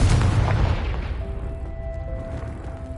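A Confringo blast spell explodes in the Hogwarts Legacy video game: one loud booming burst that decays into a fading rumble with a faint ringing tone, no voices.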